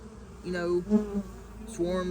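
A steady, low honey bee buzz drones near the listener, swelling and fading in a few pulses over two seconds.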